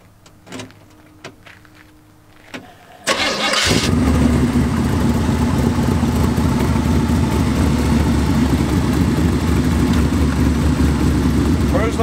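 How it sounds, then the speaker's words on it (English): After a few faint clicks and taps, a 1927 Ford Coupe hot rod engine cranks and catches with a sudden loud burst, then settles into a steady, rumbling idle that continues close by. "let me start it up for"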